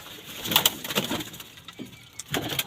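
A pigeon gives a few short coos close by, mixed with light rustling and a couple of sharp clicks, no speech.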